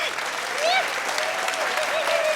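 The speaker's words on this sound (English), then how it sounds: "Give us a big cheer. Put your hands together for the mastermind" Audience applauding and cheering steadily at a live business event, with whoops rising over dense clapping and a voice calling out through the crowd noise.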